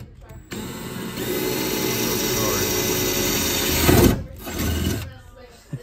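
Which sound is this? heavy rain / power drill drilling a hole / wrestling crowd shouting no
power drill drilling a hole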